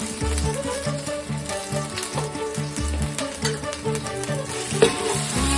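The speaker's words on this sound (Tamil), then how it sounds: "இஞ்சி பூண்டு போட்டு கலக்கலாம்" Ginger-garlic paste frying and being stirred with browned onions in a pan for Vaniyambadi chicken biryani, a steady close sizzle with repeated scraping stir strokes throughout.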